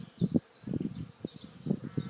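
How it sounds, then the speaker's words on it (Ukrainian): Bees swarm loudly near an apiary, a dense, close buzzing hum with insects darting past in repeated swells and fading passes, and no voices over it. "Отак от бджола працює."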